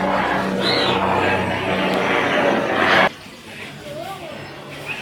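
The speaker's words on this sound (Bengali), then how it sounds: "অনেক নিচ দিয়ে হেলিকপ্টার যাচ্ছে" A helicopter passing low overhead gives a loud broadband roar for about three seconds, then fades sharply, while voices talk faintly in the background.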